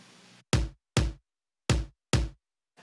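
Tom drum sample from a pop production: four deep, punchy hits in two pairs, each with a short booming decay, loud and isolated after a brief noisy lead-in.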